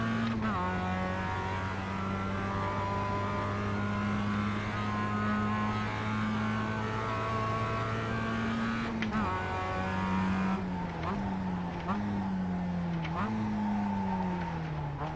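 Mazda MX-5 race cars lapping Laguna Seca in the iRacing sim, a steady loud engine drone with shifting pitch as the car brakes and accelerates, near and continuous, with a brief tire skid.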